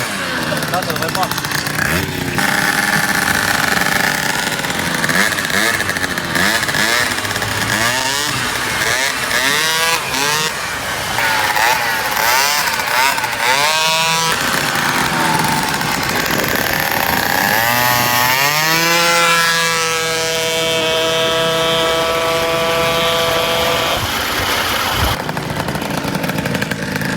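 An MBK Booster scooter engine revs hard during carburetor and variator tuning, with rising and falling buzzy whines and sustained high-pitched runs close by. A voice talks over it in places.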